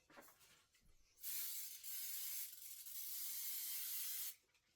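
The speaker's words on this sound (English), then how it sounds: "I'm going to give them another shot of spray because it's going to be bouncing around a lot" Aerosol adhesive spray hisses onto quilt block pieces in one long, steady, close burst of about three seconds, with a brief pause partway through.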